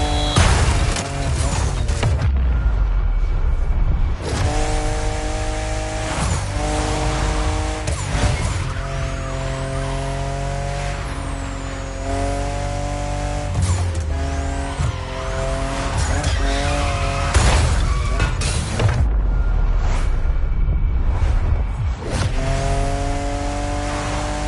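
Tires squeal in sustained, wavering whines over a loud revving engine as a car drifts in the racing video game The Crew Motorfest, continuous and close throughout with shifting pitch on each slide.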